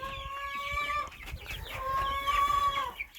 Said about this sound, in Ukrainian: Ой, як співає курка.